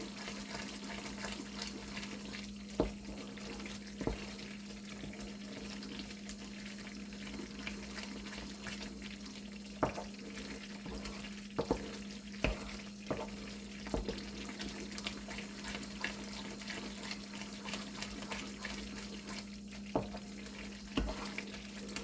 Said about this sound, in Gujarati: જ્યાં સુધી ઘી ના છૂટું પડે ત્યાં સુધી આપણે હલાવતા જ રહેવાનું છે.